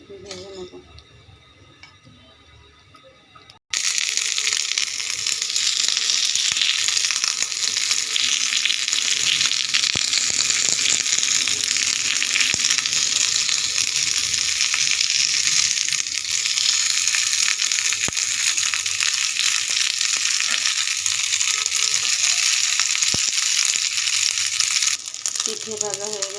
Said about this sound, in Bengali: এরকম করে উল্টে পাল্টে ভালো করে ভেজে নেব।